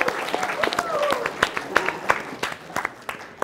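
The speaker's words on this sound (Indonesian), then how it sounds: "kita berikan tepuk tangan untuk Profesor Andi" Audience applause for Professor Andi, a law professor, at a mock debate on law and human rights: a burst of close, sharp claps that keeps steady, with a voice faintly beneath.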